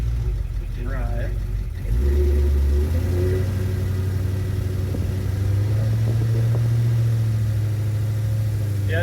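A 1987 Chevrolet El Camino with a swapped LS V8 engine revs and drones steadily up close while in gear, its transmission not engaging properly; a voice speaks briefly at the start over the running engine.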